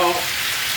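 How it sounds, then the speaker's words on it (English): Onion and garlic fry in a pan with a steady, close hiss of sizzling oil, brief and without talk. "The garlic is frying, the onion is frying"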